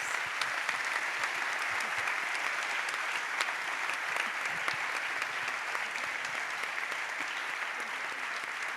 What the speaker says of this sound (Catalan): un aplaudiment per totes dues